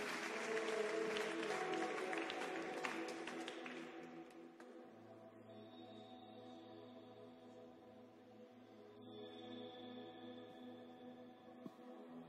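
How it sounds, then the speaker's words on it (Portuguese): Church congregation applauding during a worship service: a dense burst of clapping at the start, thinning after about four seconds into lighter scattered claps over sustained music tones. "Aplauda Jesus, Ele é digno."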